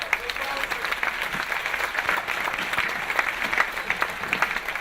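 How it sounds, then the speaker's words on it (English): A forum audience gives the education-reform panelists a sustained round of applause, thick continuous clapping from a crowd filling the room at steady loudness throughout. "How about a round of applause?"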